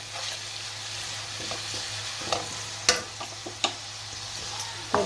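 Steady sizzling as thick soy sauce is stirred into black pepper chicken in a frying pan, a spoon scraping and clacking against the pan at irregular intervals, close and alone.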